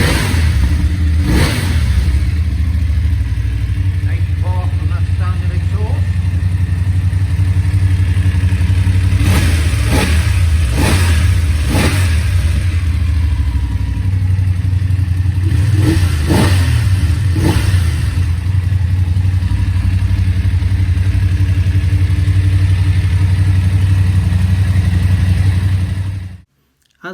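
Close-up BMW F750GS motorcycle engine idling with a throaty note through its standard exhaust, punctuated by two clusters of sharp revs, before cutting off abruptly at the end.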